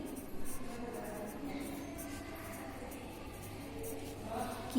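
Pen scratching steadily on paper while someone writes, a soft continuous scribble that stays close and low in level with a faint voice or room tone underneath.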